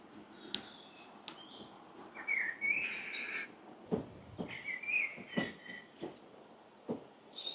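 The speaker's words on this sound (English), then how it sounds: "And back to the beautiful bird song. I can see a blackbird." A blackbird sings by a riverfront in clear whistled phrases broken by short pauses, with a few sharp clicks and knocks nearby and no talking.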